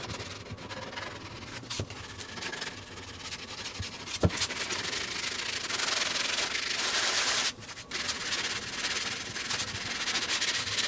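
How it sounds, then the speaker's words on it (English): A small hand sander loaded with 220 grit sandpaper rubs along the edges of a soft wood fillet board, a continuous close scratchy rasp that swells and dips with each stroke, with a few sharp ticks. "I've just got my little hand sander with 220 grit. I'm just going to hit these edges."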